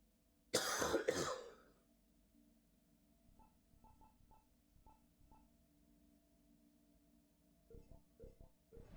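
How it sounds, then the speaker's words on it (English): A sick gamer's two sharp, loud coughs burst out near the start, followed by a series of softer, muffled throat clearings and small coughs scattered through otherwise quiet room sound. "Sorry if you hear me coughing"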